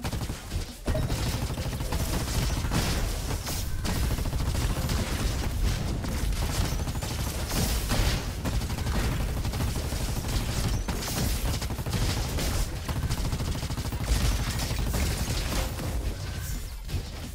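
Junk Rifle firing rapidly in the video game Roboquest: a dense, continuous barrage of loud shots and clattering impacts running without pause for the whole stretch, with no talk.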